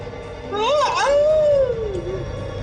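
Someone shouts loudly from upstairs as a hearing test inside a building, a single sustained, rising and falling yell lasting about two seconds, with other voices in the background.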